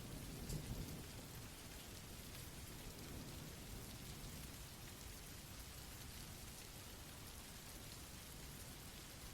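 Steady, heavy rain hisses without pause while low thunder rumbles underneath, strongest in the opening second, forming a continuous storm bed with no voices.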